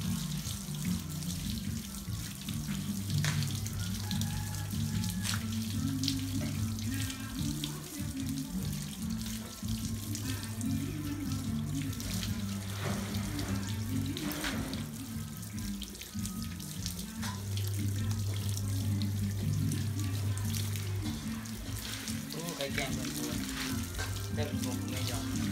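Tap water runs steadily into a sink while a face is washed with soap, a continuous close splashing stream with faint clatter and occasional low voices in the background.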